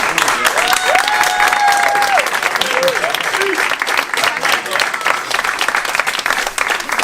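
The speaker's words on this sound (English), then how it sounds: "I think we need to give Triple F a round of applause." A crowd at a football club presentation night applauds steadily, dense clapping filling the whole stretch with a few whistles and cheers mixed in, close and loud.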